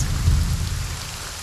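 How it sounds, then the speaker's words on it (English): Steady rain falls in the Deisim VR god game on Oculus Quest 2, a dense continuous patter with a heavy low rumble underneath, loud and unbroken throughout with no voices. "Let's do a little bit more rain right here"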